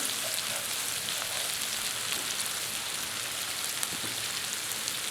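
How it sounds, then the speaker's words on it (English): Tomato pesto fries in a pan with a steady, even sizzle like light rain, close and constant from start to finish, with no voices. "I want to put a good tablespoon of my pesto, tomato pesto, start cooking that through"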